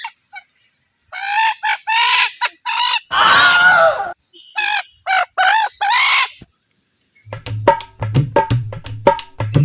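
Chicken kept for two years gives loud nearby clucks and squawks in quick bursts, one long cock-a-doodle-doo crow, then a run of rapid short clucks.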